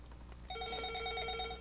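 Telephone ringing in a radio call-in studio, a steady electronic ring tone starting partway through and holding clearly over low room hum, with no talking.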